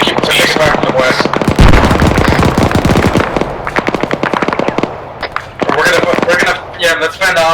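Gunfire in the Arma 3 military game: rapid bursts of automatic fire crackle near and loud, with several volleys over about seven seconds while a voice talks over the shooting.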